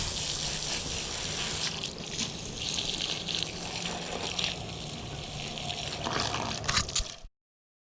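Water poured and splashed over pond rocks to rinse them, a steady close rushing trickle that runs for about seven seconds and then cuts off abruptly.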